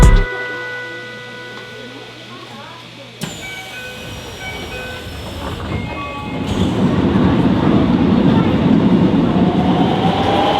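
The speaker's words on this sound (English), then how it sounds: "Even taking the metro in Tokyo is an experience." Tokyo metro subway train heard from inside, a tonal whine and hum easing off, then a thud before the rumble swells into a loud, steady rolling roar of the moving train.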